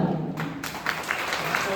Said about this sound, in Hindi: अब ताली ऐसा बजो